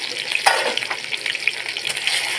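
Bay leaves frying in sunflower oil produce a bright bubbling sizzle with irregular pops and spatters, moderately loud and close, without talking.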